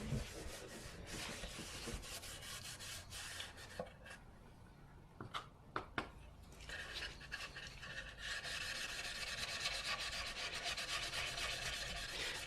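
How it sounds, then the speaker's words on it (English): Sandpaper of 120 grit rubs steadily across a tenor ukulele body in close, rhythmic back-and-forth strokes, pausing midway for a few light taps and handling sounds before the sanding resumes. "The body, when I sand before the finishing, initially it's sanded with 120 grit"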